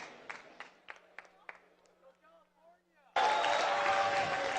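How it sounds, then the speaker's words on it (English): A live crowd at a Halo 3 MLG championship event in Anaheim: quiet speech and scattered claps first, then a loud, sustained roar of cheering bursts in and holds to the end. "The crowd here is really pumped up"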